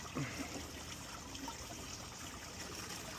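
Liquid trickles and splashes steadily into a hydroponic tank, poured from the top, a soft continuous pouring sound at close range with no talking.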